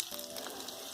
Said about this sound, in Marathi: दोन 3 मिनिट कांदा परतून घेते.